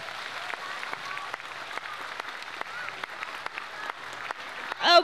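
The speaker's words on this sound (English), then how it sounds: "give yourselves a big round of applause" Scattered applause from a school assembly audience at a holiday-themed primary school event, moderate and steady with sharp individual claps, ending as a voice begins.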